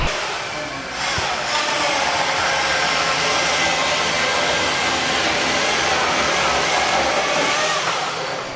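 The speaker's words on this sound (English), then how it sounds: "Excited to announce our M18 Fuel 3-in-1 backpack vacuum with our brushless motor and cyclonic design." Milwaukee M18 Fuel 3-in-1 cordless backpack vacuum with a brushless motor and cyclonic design, running as a loud, steady airy whine that starts up in the first second and holds continuously to the end, with no talk over it.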